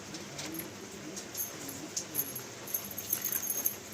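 Long-bodied Kaldom Rampuri pigeons coo softly in a loft, low throaty calls repeating under a faint rustling background, with occasional light clinks.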